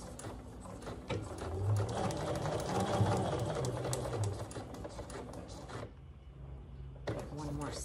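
Sewing machine stitching a quilt block: a fast, steady mechanical whir that runs for several seconds, stops briefly, then starts again, with a voice speaking softly underneath.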